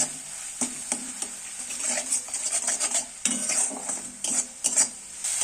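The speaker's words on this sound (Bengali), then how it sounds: "এইবার আমি সব মশলাগুলো একটু ভালো করে ভেজে নেব" Spices for an eggplant, potato and tomato dish stir-fried in oil in a pan, with a close, steady sizzle broken by repeated scraping and clinking of a utensil against the pan.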